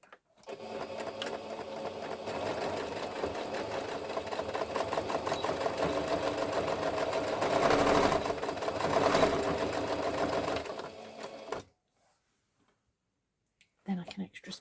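A sewing machine stitches a handmade princess bag in a long, steady mechanical whir with fine rapid ticking. It runs close and alone for about eleven seconds, stops suddenly into silence, and then a short sound follows.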